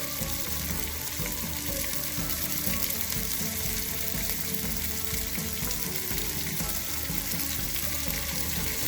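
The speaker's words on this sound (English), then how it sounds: "I'm going to add in the tomatoes, the green chilies and the curry leaves." Tomatoes, green chilies and curry leaves sauté in a pan with a continuous, even sizzle at moderate loudness, steady from start to end with no voices.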